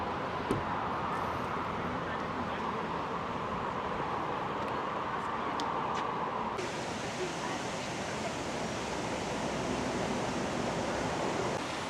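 Waterfall near the US 30 parking lot in Oregon, a steady broadband rush of falling water heard from some distance, continuous and even throughout with faint background hum.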